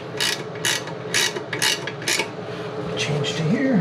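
A 1/2-inch ratcheting wrench turning a bolt on a rotted toilet flange during a toilet replacement, giving repeated close, loud ratchet clicks in short rhythmic bursts.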